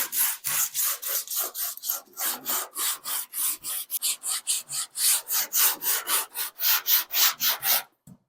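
Wood is sanded by hand with 40-grit sandpaper to find a low spot on a repair of a 1976 Monarch. About two dozen brisk back-and-forth scraping strokes come close and loud in a regular rhythm, then stop abruptly.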